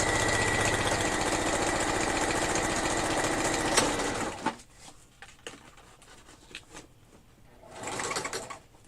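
A sewing machine whirs steadily and close for about four seconds, then stops abruptly with a clunk as the thread snags, followed by quiet handling knocks and rustles.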